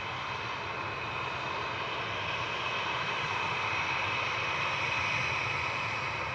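A Ryanair Boeing 737-800, registration EIDWX, rolls out after landing at Manchester Airport with a constant jet roar and high engine whine, moderately loud and steady throughout, with no speech.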